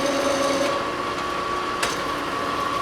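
A YCM-SuperMax 11 x 51 inch vertical/horizontal milling machine raises and lowers its table by a separate knee motor, a steady mechanical hum with a constant whine and one brief clunk, heard close with no talking.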